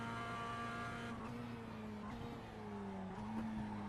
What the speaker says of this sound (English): Oh, braked a little bit too hard there